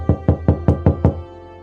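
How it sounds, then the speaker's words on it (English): Six firm knocks land on a door in an even, quick rhythm, loud and close, followed by a brief low hum as the sound settles. "was almost grateful when some pony came knocking at her chambers"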